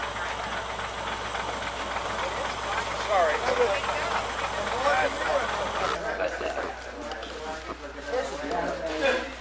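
A rear-mounted car engine idles with a steady knocking chug and some hissing, close by, while people talk over it.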